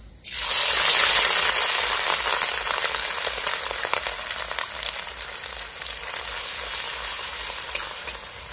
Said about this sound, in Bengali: যে আদাটা ভাজছি